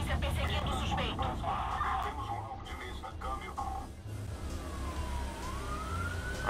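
A police car siren in the video game Watch Dogs wails steadily beneath loud engine and traffic noise on a highway during a chase, with a rising electronic tone near the end, all fairly close.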